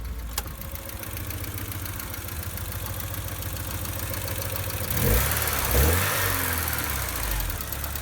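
A 1988 Porsche 944 engine idles steadily close by with a smooth, even mechanical rumble, briefly swelling in a couple of light revs before settling back.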